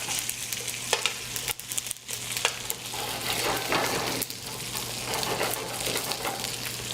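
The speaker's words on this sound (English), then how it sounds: "I really wanted to kind of flip them over so they get seared on both sides" Carrots searing in a hot pan for an Easter meal, a steady close crackling sizzle with occasional sharper pops and brief stirring scrapes, no talking.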